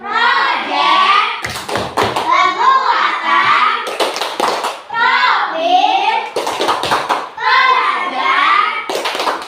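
A school class performs the rhythmic P5 clap chant, bursts of loud group hand clapping alternating with children and a teacher chanting in unison, close and energetic.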